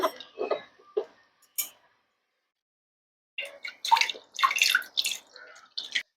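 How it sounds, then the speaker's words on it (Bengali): A whole eggplant is rinsed under running water: short splashy bursts of washing, then a pause of near silence, then a longer busier stretch of splashing and dripping close by, with no talk. "বেগুনটাকে আমি গোটা অবস্থায় খুব ভালো করে ধুয়ে নেব"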